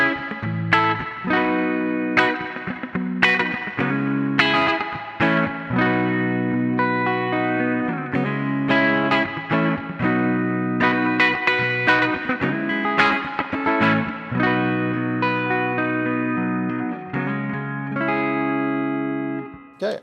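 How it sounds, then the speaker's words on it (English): Clean electric guitar chords and picked notes through a Fractal modeler with no amp ring out with a lush, splashy deluxe spring reverb, playing continuously at steady volume with no voices. "Let's go to a simple deluxe spring reverb and let's just see what happens here."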